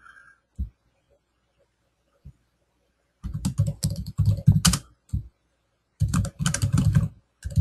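Typing on a computer keyboard at a desk, a few isolated key clicks followed by two quick bursts of rapid keystrokes, close and clear with no talking.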